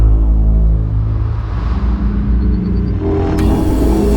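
The Automobili Pininfarina Battista electric hypercar emits its synthesized drive sound, a loud, deep layered rumbling hum that holds steady, then brightens and swells near the end.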